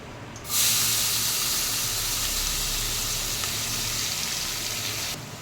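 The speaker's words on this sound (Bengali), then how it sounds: "তেলটা গরম হয়ে গেল। এবার এর মধ্যে চপ করে রেখেছি পেঁয়াজ" Chopped onions hit hot oil in a wok with a sudden loud, steady sizzle that holds for several seconds and then cuts off abruptly, close and with no talk.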